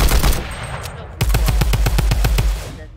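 Tommy gun in Fortnite fires a rapid burst of about ten loud, close, evenly spaced shots after a short lull with faint earlier gunfire.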